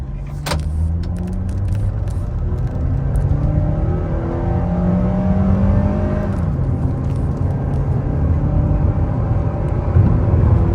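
A Honda CR-V G4 2.4 with a tune, air conditioning on, in drive under full load with its catalytic converter retained, accelerates hard in a speed test: a loud, close engine drone climbs steadily in pitch, dips briefly at a shift midway, then keeps rising.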